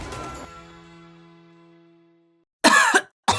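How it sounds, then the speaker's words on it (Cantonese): A person coughs twice, short harsh bursts near the end after a ringing tone fades out, close and loud. "咳到好攰，咳到好辛苦，咳到好尷尬"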